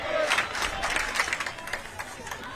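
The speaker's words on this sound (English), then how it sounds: "The Bowling Green crowd starting to get into it a little bit after that 90 seconds of attack" Spectators at a Bowling Green women's college soccer match applaud and cheer in a rolling crowd wash, with scattered claps and a commentator's voice speaking over it.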